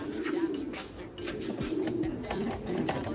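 Racing pigeons coo in a coop, several soft repeated throaty coos in quick succession, close and fairly quiet.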